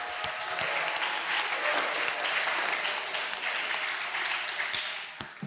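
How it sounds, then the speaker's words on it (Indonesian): A student audience at an Islamic boarding school discussion applauds steadily, a dense wash of many hands clapping at moderate distance that holds for several seconds and tapers slightly at the end. "Tepuk tangan dulu dong."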